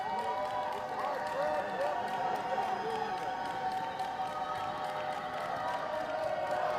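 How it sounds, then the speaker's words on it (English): An Air Force crowd at a wheelchair basketball game keeps up a steady, moderately distant roar of cheering and noise under a play-by-play commentator's voice, with squeaks and court sounds mixed in. "Air Force crowd, a raucous bunch."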